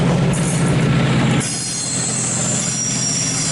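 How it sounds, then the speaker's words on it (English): A passenger train runs past the platform at Leamington Spa station, loud and close with squealing wheels and rumbling carriages, then the roar drops sharply partway through as the train moves away, leaving a steadier fading rumble. "I'm recording a train going past right now"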